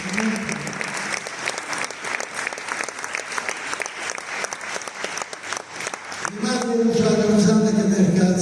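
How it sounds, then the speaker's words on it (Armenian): An audience at a commemorative jubilee evening claps for about six seconds in dense, sustained applause. Then the clapping gives way to a louder tonal sound that carries through to the end. "Եկեք ծափարենք և ողջունենք նրանց"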